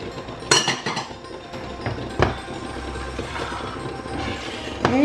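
A utensil clinks and scrapes against a pot as turkey stew ingredients and turkey stock are mixed together, with a few louder knocks over a low background rumble.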